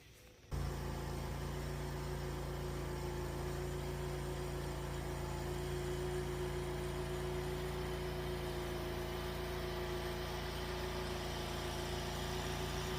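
A Dixie Chopper Xcaliber mower engine, a 2022 machine, runs steady and loud while towing a roughly 4,400-pound Nissan Xterra on a farm, its low hum and harmonic drone constant throughout with no speech.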